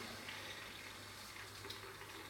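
Hot water pours over a Samsung Galaxy S7 phone in a faint, continuous splashing trickle that stays steady and quiet throughout.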